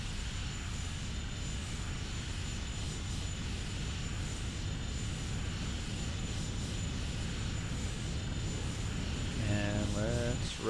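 An Alpha Jet's engine at full power in the X-Plane 11 flight simulator, a loud, steady roaring whine that spools up and holds, with a brief higher tonal sweep near the end.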